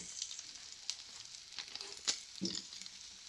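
Onions and cumin seeds frying in a little oil in a pan, a soft, quiet sizzle with faint crackles and a few stirring clinks, heard alone without talk.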